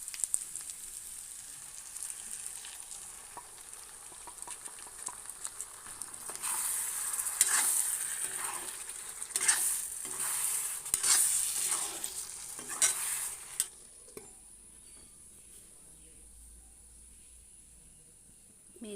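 Pork frying in a hot pan sizzles with a steady hiss while it is stirred. The scraping strokes come in a louder run midway, then the sizzle dies down to a quieter simmer.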